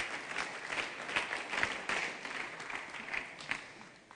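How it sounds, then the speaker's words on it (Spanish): A church congregation at an annual pastors' retreat clapping together as an offering of applause, a steady, lively patter of many hands with no voices over it. "Hermanos, damos una ofrenda de palmas al Señor Jesús."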